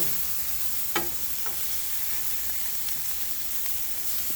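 Asparagus sizzles on a Blackstone griddle, a steady bright frying hiss with a few soft clicks and scrapes as the spears are flipped.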